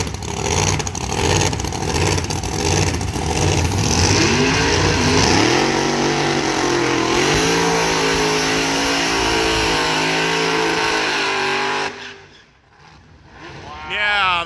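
Drag racing cars at the Danchuk Tri-Five Nationals roar loudly with a sustained, rising engine howl that climbs in pitch as they accelerate away, fading near the end, with a voice talking over the noise.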